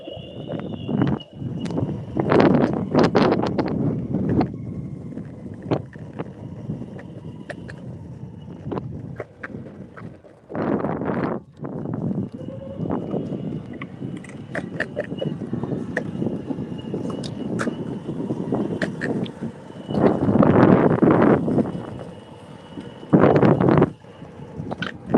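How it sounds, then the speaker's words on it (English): Strong gusty wind buffets the microphone outdoors in San Francisco, rumbling in uneven loud surges with occasional sharper thumps and no voices. "whoa, super windy"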